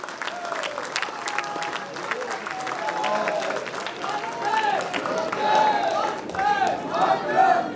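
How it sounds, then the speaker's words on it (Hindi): A large crowd at a political conference addressed by the railway minister claps and cheers loudly, the applause swelling steadily over several seconds with excited shouts rising above it. "खड़े होकर ताली बजानी चाहिए, आपको एक बार जोरदार तालियां बजनी चाहिए"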